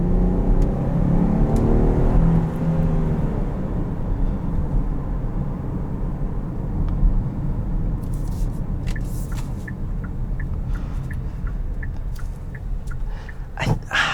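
A 2022 Kia Carnival LX's 3.5-liter V6 engine drones low and steady inside the cabin while driving, mixed with continuous road rumble, and faint light clicks come in toward the end.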